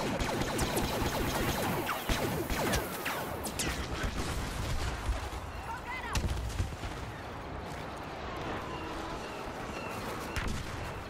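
Blaster gunfire fills a Star Wars video game battle, rapid overlapping shots and bursts crackling continuously at close range over a dense background of battle noise.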